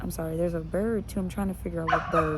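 A dog barks and yips in short repeated bursts with whimpering tones, close and loud, while someone talks over it.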